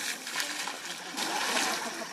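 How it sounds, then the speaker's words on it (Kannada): A herd of elephants playing in water at Mysore Zoo, giving a continuous close splashing and sloshing wash with no pauses. "ಅವಕಾಶ ಸಿಕ್ಕಾಗೆಲ್ಲ ನೀರಲ್ಲಿ ಆಟ ಆಡ್ತಿರ್ತವೆ"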